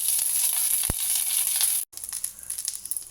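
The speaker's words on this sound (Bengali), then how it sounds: "আর ওই বাকি তেলটার মধ্যে কারি পাতা আর সর্ষে ফোড়ন দিয়ে" Mustard seeds and curry leaves spluttering in leftover hot oil for kande poha, a dense, steady crackling sizzle up close that cuts off briefly and then resumes with lighter popping.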